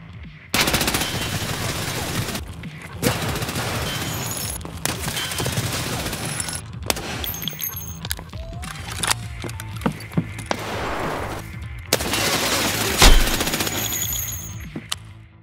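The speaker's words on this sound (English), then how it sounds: "the SR-2M Veresk submachine gun, the newest gun added in Escape from Tarkov with the latest wipe, firing 9x21 rounds" An SR-2M Veresk submachine gun firing 9x21 rounds in Escape from Tarkov: sharp, loud bursts of automatic fire separated by short gaps, with clicks and handling noises between volleys.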